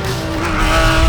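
Race cars at the start of a Le Mans race give a loud, dense, continuous engine roar with rising tones, close and unbroken.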